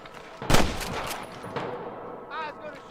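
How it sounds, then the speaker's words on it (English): Gunfire crackles in a Red Dead Redemption shootout with rustlers: a loud close burst of several shots, then scattered fainter reports and distant pops over outdoor game ambience. "I can hear more gunshots."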